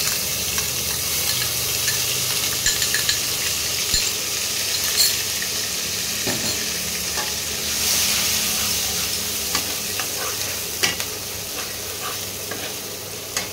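Onion paste fries in a pan with a steady loud sizzle, and a spoon scrapes and stirs through it with occasional light clinks. No one speaks.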